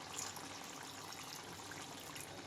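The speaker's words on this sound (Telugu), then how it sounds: "ఇప్పుడు ఇందులోనే వాటర్ యాడ్ చేసుకుందాం." Water poured into a pressure cooker holding a curry as it cooks, a steady, close rush of liquid that runs unbroken for the whole stretch with no talking.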